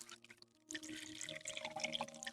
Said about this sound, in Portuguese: Preencha o frasco com água destilada até a marca de 1 litro.